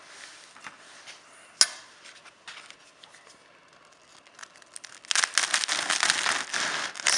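A knife sawing through crispy homemade no-knead bread: faint crinkles and a sharp snap at first, then a loud, dense burst of crackling crust near the end.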